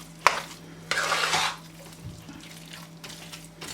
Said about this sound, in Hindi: आपने इसमें जो है कॉन्स्टेंटली ये देख लें चमचा हिलाते रहना है।